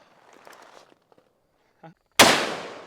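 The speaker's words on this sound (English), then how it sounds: "I'm tired of shooting these stupid 2 liters." A .500 Magnum revolver fires once at 2-liter bottle targets outdoors, one sharp, very loud, close blast that rings off after quiet talk and small shuffling sounds.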